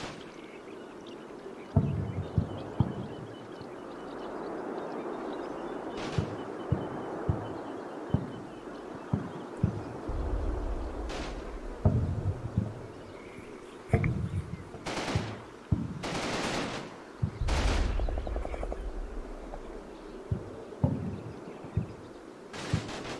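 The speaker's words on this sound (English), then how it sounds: "play the fun game of count the machine guns" Machine guns firing in a video game, in short rapid bursts that recur at uneven intervals over a low, rumbling battlefield background. Some bursts are sharp and close, others farther off.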